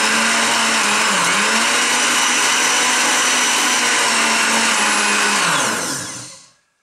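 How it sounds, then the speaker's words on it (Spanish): An electric blender whirs loudly and steadily while mixing homemade dulce de leche liqueur with coffee and vanilla essence, its motor pitch dipping briefly before winding down and stopping near the end. "Ahora lo voy a batir y lo voy a mezclar todo."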